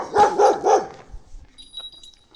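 A young Patou (Pyrenean mountain dog) gives three quick, loud barks in a row, then goes quiet apart from faint background noise.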